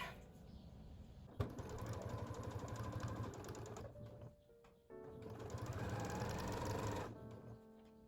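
A sewing machine stitches a slip dress in two sustained runs of rapid, even needle chatter, separated by a brief pause. The sound is fairly close and steady, with no talk over it.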